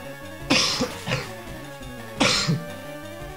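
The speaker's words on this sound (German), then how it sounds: "Mein Husten ist schlimm." A man coughs hard in two harsh bursts, the second a couple of seconds after the first, each with a rough throat-clearing tail, loud and close against faint background game music.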